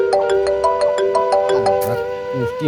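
A phone ringtone plays a repeating electronic melody with regular chimes, steady and fairly loud, with background music and a brief rustle near the end; no speech is heard.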